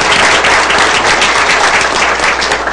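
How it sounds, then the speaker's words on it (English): Audience at a city council meeting applauding loudly and steadily, a dense wash of many hands clapping that fills the whole stretch without a break. "Let's give them a big round of applause."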